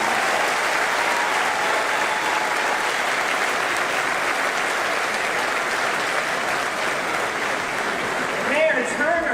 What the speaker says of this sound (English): another round of applause for your mayor, Sylvester Turner